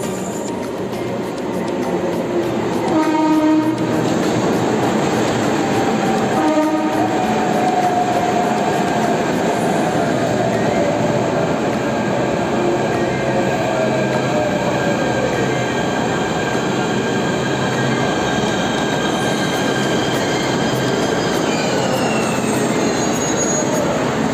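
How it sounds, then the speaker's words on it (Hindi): A metro train rolls in loud and close with a steady rumble, wheels squealing in long, drawn-out tones as it slows. "हमारी नेक्स्ट मेट्रो ट्रेन हमारे स्टॉप पे आ चुकी थी"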